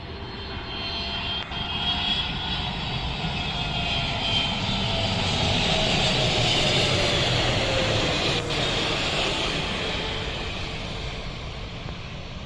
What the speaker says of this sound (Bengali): একটি বড় বিমান এগিয়ে আসছে এটি বিমান বাংলাদেশ এয়ারলাইন্সের সবচেয়ে বড় বিমান বোয়িং ট্রিপল সেভেন মডেলের বিমান